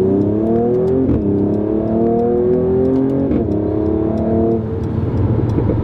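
A Mercedes-AMG CLS 53 accelerating hard, its engine climbing loudly through the revs with brief dips at gear changes, heard steadily from inside the car without any talking.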